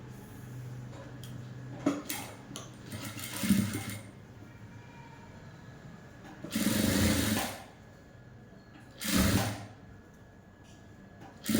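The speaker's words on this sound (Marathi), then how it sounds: "आता आपल्याला इथं किनारीला शिलाई मारून घ्यायची" A sewing machine stitches the neckline edge of a blouse in short bursts of fast whirring. There are brief spurts early on and two longer runs later, with quiet handling noises in between.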